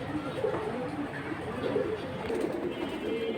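A pair of Kalabaga pigeons coos in soft, repeated low phrases at close range, with steady background noise and no clear talk.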